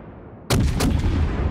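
Warship main guns fire in the World of Warships naval battle video game. After a moment of quiet, a sudden loud blast hits, a second report follows close behind, and a long, heavy rumbling tail fades out.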